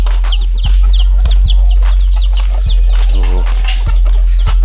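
Backyard chickens cluck and chirp near a feeding spot, a busy layered flock chatter with sharp calls over a steady low hum, loud and close throughout.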